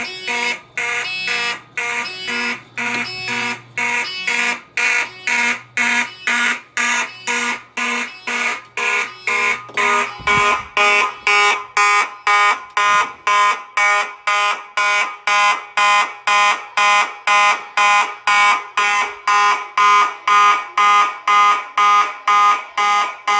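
A Simplex 4005 fire alarm system sounding code 3 after a duct detector trips, a loud, close electronic horn pulsing in a steady march-time rhythm of rapid on-off bursts that continues for over twenty seconds with no talk.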